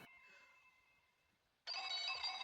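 A telephone rings in the horror game Welcome Home, heard as a faint fading tone followed by a sudden, louder burst of electronic ringing near the end.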